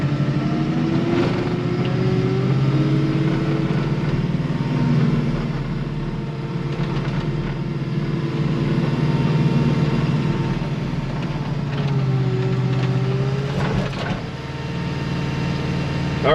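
A JCB Teleskid skid-steer plowing snow, its diesel engine droning steadily and loud throughout, with slight shifts in pitch as the arm and bucket work, and no voices.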